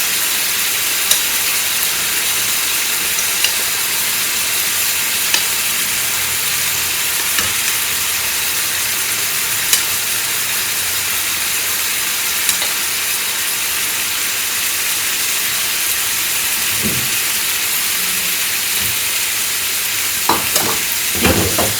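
Boiled eggs frying with masala in a pan for an egg pepper fry, a loud continuous close sizzle and hiss throughout, broken by a few soft clinks and stirring bumps near the end.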